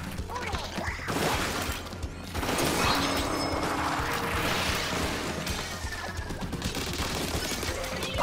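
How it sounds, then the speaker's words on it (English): Explosions and crashing impacts from the video game Splatoon 3 Side Order, dense and loud throughout with bursts and clatter layered over busy game sound effects and music. "Alright, yeah, we do a little explosion."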